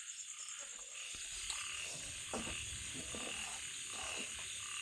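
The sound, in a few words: frogs croaking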